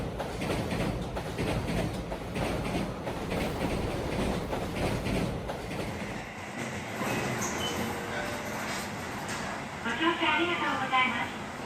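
A single-track, non-electrified Misumi Line diesel train rumbles across the Hamadagawa Bridge, a continuous loud rolling drone with rhythmic wheel clatter that eases later, under steady talking.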